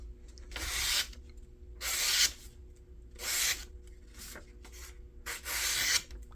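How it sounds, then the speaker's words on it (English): A giant folding kitchen knife with a thin 2.3 mm sheep's-foot cleaver blade makes four separate rasping cuts, evenly spaced with quiet gaps between them. The cuts are close and crisp, with no talk. "See how it cuts."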